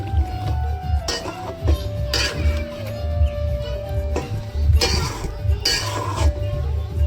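Already-fried chicken for biryani is stirred in a pot, with a spoon scraping and knocking against the metal in irregular clinks and scrapes over a low background hum.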